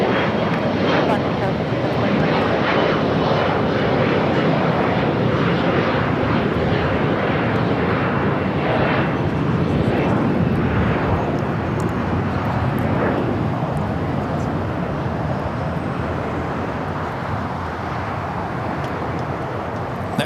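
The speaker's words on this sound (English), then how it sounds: "Alaska Airlines flight 1147 heading to Seattle, Washington is 737-800." An Alaska Airlines Boeing 737-800 jet taking off at LAX, its engines building to a loud, sustained roar that peaks midway and then gradually fades, while a voice talks over it.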